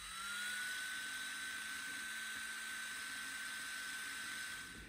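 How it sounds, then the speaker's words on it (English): A carbide burr grinds a Mercedes R107 rear hub nut with a steady, high, whining drone that holds level throughout, fairly close with no talking. "So we've just got to try and thin out ever so slightly with a carbide burr"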